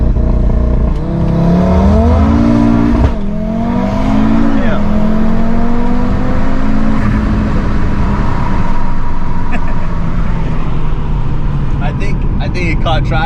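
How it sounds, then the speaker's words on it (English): A rebuilt 2019 Audi RS3 with a Unitronic tune accelerating hard from a standstill in a 0 to 60 run on a partly wet road. The loud engine note climbs and shifts up through the gears, close and sustained. "let's go ahead and find you a dry patch and run some 0 to 60 numbers."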